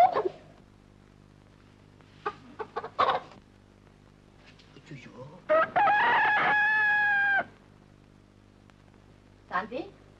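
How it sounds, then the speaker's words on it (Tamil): A rooster crows once, loud and close, in a long rising call, with brief clucks and bits of talk around it in a quiet village setting. "கோழி கூப்பிட்டுச்சுமா, எழுந்துரு"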